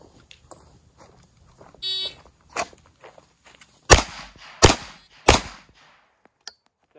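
Three loud, sharp handgun shots ring out in quick succession on an outdoor range while the shooter walks, with a short electronic buzzer tone sounding just before and faint footsteps between the shots.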